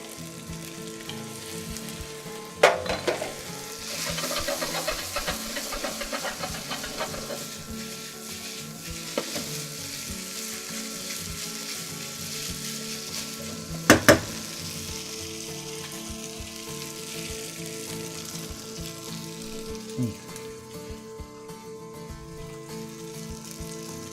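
A stir fry with sesame oil sizzles steadily in a pan, a continuous close hiss broken by occasional sharp clinks and scrapes of stirring.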